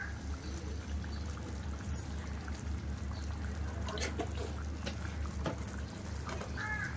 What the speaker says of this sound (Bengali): আর অল্প একটু ঘি দেবো, সামান্য একটু দেবো, বেশি দেবো না।